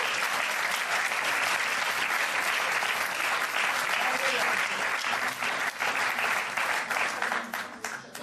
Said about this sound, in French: Donc voilà, des applaudissements.